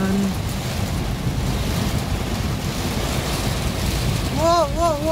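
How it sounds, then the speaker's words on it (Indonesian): Strong wind during a storm on a road by the Lanud airbase in Tasikmalaya, a loud continuous rushing roar buffeting the microphone, with a voice speaking and a brief wavering tone near the end. "Ini anginnya gede, sumpah."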